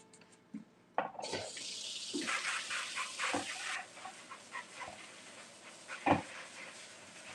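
Sliced potatoes rinsed under a running kitchen tap, a steady broadband gush with clatters and knocks as the slices are handled, fairly close and moderately loud, no talking.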